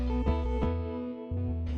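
A 2021 Honda CB350RS motorcycle engine and exhaust, a deep steady rumble with a couple of brief throttle blips, close and continuous with no talking.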